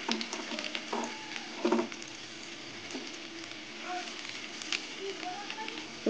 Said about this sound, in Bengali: এবার রসুন কুচি দিয়ে দেবো।